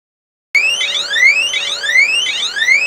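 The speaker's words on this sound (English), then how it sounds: "I have this little alarm here that I'm going to start playing as well. It's going off right now, and it's very, very loud." A small, very loud electronic alarm goes off alone after a half-second of silence, sounding repeated rising chirped sweeps in a steady cycle about once per second over a faint constant tone, close and piercing.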